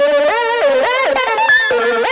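Heavily distorted synth lead from a modern breakbeat track, a bright, buzzy tone with dense harmonics sliding and wavering between notes, playing continuously and loud with no voices over it.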